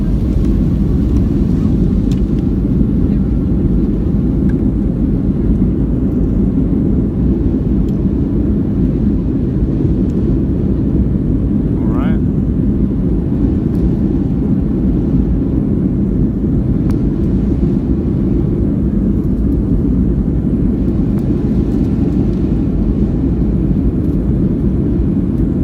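An Icelandair Boeing 757-223 with winglets roars through its takeoff roll at full power from London Gatwick, a loud, continuous low rumble heard steadily from inside the cabin with no talking.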